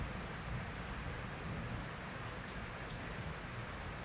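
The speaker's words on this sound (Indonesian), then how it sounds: "Posisi lagi hujan, guys." Steady heavy rain pouring down outdoors during a thunderstorm, a dense continuous hiss of drops on surfaces with no pauses, fairly loud and close.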